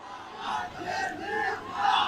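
A large crowd chants political slogans in unison at a rally during a speech on the Israel–Palestine war, a loud, sustained roar of many voices that swells toward the end.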